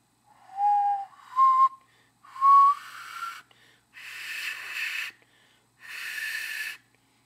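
Several breathy, whistle-like notes from an alto ocarina that takes effort to sound, one at a time, each held briefly with short pauses between, some airy and hissing, played alone up close.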